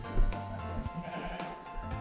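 Scottish Highland sheep bleat inside a lambing shed, a few overlapping nearby calls over a low hum of the shed.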